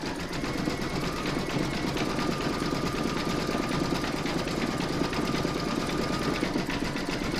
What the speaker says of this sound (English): You're now going to stitch round number 8, and that's going to stitch the detail in the middle of the paw.